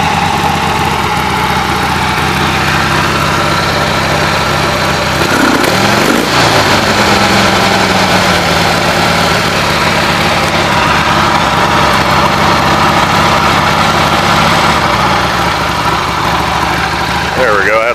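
A 1980 Harley-Davidson Ironhead Sportster idles steadily with its choke still partly on, a continuous close engine drone that holds throughout with a brief dip midway, while a voice talks over it.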